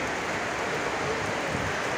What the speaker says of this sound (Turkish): dışarıda bir yağmur, bir yağmur nasıl yağıyor anlatamam